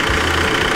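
A loud car engine with valve knocking idles steadily up close, a dense mechanical churn with a faint repetitive ticking running through it.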